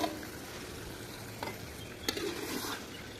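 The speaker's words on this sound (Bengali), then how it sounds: "মশলা কষানো হয়ে গেছে, এখন আমি চিকেন দিয়ে দিলাম।" Chicken pieces frying in a pan of cooked-down spiced masala sizzle steadily while being stirred, with a few scraping stirs against the pan and no talk.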